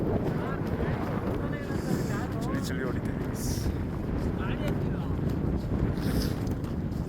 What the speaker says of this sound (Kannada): ಫುಲ್ಲು ಚಳಿ, ಗಾಳಿ ಮಾತ್ರ ಹೆವಿ ಐತೆ.